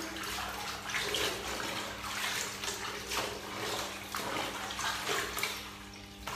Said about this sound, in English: just rinse through the pants a few times